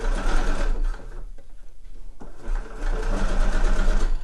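A sewing machine stitches through a bulky knitted ear warmer, running loud and close in a continuous mechanical whir with a brief slowdown partway through before it speeds up again.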